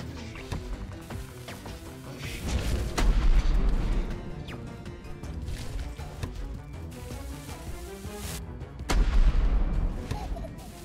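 Gunshots in the horror game The Baby In Yellow, a series of heavy booming shots with two louder bursts near the start and end, with occasional talk.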